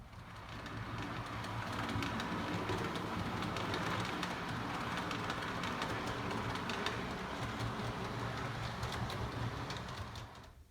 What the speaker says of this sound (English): we'll see some more trains running.